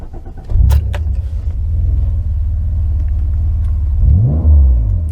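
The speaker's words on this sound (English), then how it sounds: "let's start the engine up again" An Alfa Romeo 164 V6 Cloverleaf engine cranks and catches, settling into a steady, loud low idle, then revs briefly near the end with a rising and falling engine note.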